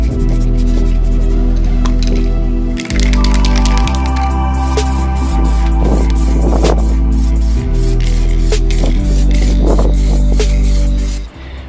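Steady aerosol spray hisses close up while paint is applied to new Brembo brake parts for a Ford Falcon, running in long continuous bursts with brief pauses around three and four seconds, with no talking.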